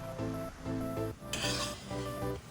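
Chicken pieces fry in bubbling peanut oil in a kadai with a rough sizzle. Rhythmic scraping and stirring strokes repeat over it, close up and fairly loud.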